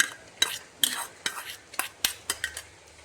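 A spoon stirring sautéed carrot and tomato into curd rice, a run of about eight close, sharp scraping and clinking strokes against the vessel in an uneven rhythm, with no talk.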